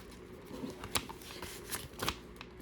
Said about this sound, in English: I'm going to put 2 bills with every envelope